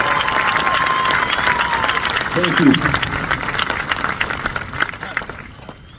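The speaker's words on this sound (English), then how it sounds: "would you please continue to applaud for them?" Graduation audience applauding in a large room, a dense, loud wash of clapping and some cheering that gradually fades, with a brief spoken thanks near the middle.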